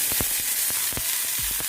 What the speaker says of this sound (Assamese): পিঁয়াজখিনি অকণমান কোমল হৈ যোৱালৈকে ভাজিম